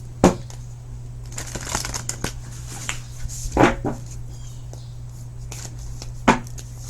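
Tarot cards are shuffled and snapped by hand, with a few sharp riffling bursts spaced apart over a steady low hum.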